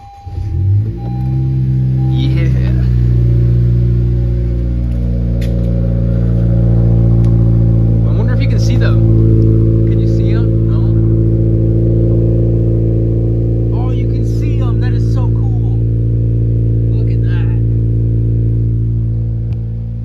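A 10th gen Honda Civic Si engine cold starts and then idles high with a steady, loud mid-range drone and a few revving swells, heard up close with occasional voices in the background.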